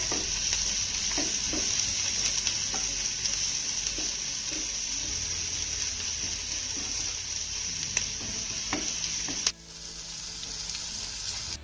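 Grated garlic, ginger and green chillies sauté in a pan with a steady, even sizzle and occasional light stirring taps, continuous and moderately quiet, dropping a little in level near the end.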